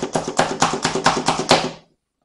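Ronco Chop-o-matic hand vegetable chopper pumped on a red pepper: about eight quick, evenly spaced plunging clacks with crisp chopping impacts, close and loud, then stopping abruptly into silence.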